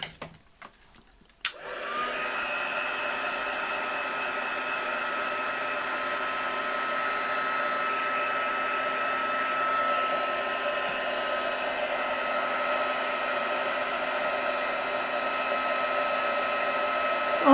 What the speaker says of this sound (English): I'm just going to heat that up and emboss it.